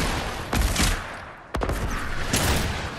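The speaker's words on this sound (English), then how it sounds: "Oh, but why are you shooting me?" Video game gunfire crackles in dense, loud bursts of rapid shots, with a brief break partway through before the shooting resumes.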